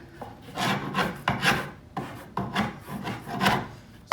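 A scraper rasps dried glue off a wooden board in rhythmic back-and-forth strokes, about eight close, gritty scrapes with short pauses between.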